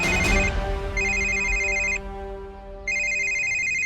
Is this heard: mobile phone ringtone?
yes